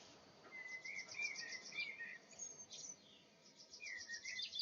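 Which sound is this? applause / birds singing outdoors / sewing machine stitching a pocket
birds singing outdoors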